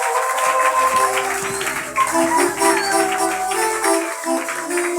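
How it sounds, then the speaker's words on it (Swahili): A church congregation applauds loudly, sustained dense clapping mixed with crowd noise and held musical tones running underneath. "Shangilia Bwana kwa makofi makubwa sana."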